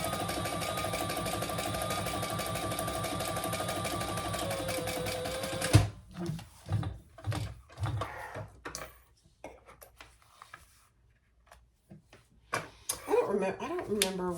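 A sewing machine top-stitches a crossbody bag in a fast, steady run for several seconds, then stops, followed by quiet handling clicks and taps with faint voice sounds.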